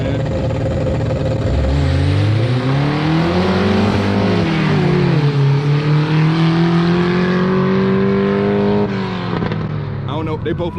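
A turbocharged Volkswagen Beetle revs hard and pulls away at a car meet, its loud engine tone climbing and falling in sweeping pitch over about nine seconds before dropping off, with people talking underneath.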